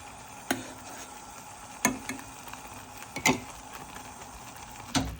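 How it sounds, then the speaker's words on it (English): Beef tips are stirred in a pan of thickening gravy under a low bubbling sizzle. Four distinct scrapes and knocks of the spoon against the pan come at irregular intervals. "Stir it down and it's cooking down."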